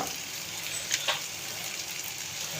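Potatoes sauté in a pan of spiced oil for an egg curry, giving a soft, steady sizzle close by with a couple of brief brighter spits partway through.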